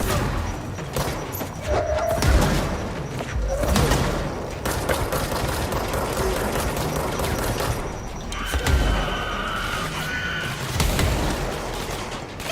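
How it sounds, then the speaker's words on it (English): Grenade blasts in the action game Control, a run of loud bursts and mechanical rattles amid continuous combat noise, with no clear speech. "Lovely little grenades."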